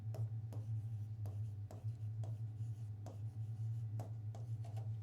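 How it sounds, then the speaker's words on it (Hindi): A hand writes out a sentence in a grammar lesson, giving a steady run of short scratchy pen strokes at a regular pace over a constant low hum, close and fairly quiet, with no talking. "अब यहाँ पे मैं एक सेंटेंस लिखती हूँ"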